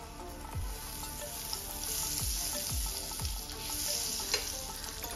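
Oil and a spoonful of butter sizzle steadily in a pan on a gas stove, a continuous close hiss with a few soft low knocks and no talking.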